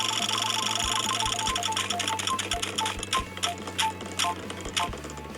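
A prize wheel spins with rapid, even clicking that gradually slows, the ticks spacing out toward the end over a low steady hum.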